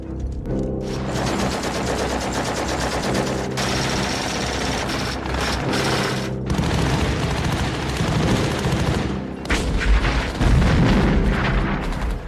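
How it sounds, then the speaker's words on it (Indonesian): Dense gunfire and explosions from a Vietnam War firefight scene with US Marines in the film Full Metal Jacket: sustained bursts of automatic fire, sharp shots and heavy booms, loud and continuous throughout. "kontak senjata pun tak bisa dihindarkan lagi"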